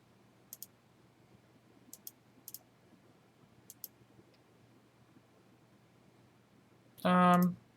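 A computer mouse clicks a handful of times, faint and sparse, in short pairs spread across a quiet room; a voice briefly speaks at the very end.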